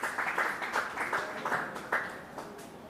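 Quiet audience applause at a panel on AI and post-quantum cryptography, a soft patter of claps swelling in small bursts, distant and faint.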